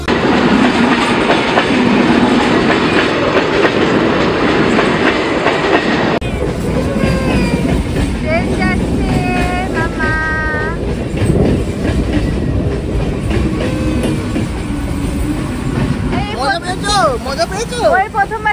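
A train rolling along near the Ganga in Kolkata, loud and close with rhythmic clickety-clack of wheels and carriage rumble throughout, while people chatter and call out over the train noise.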